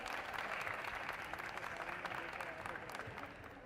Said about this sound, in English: So let's give a big hand to Team Cypher.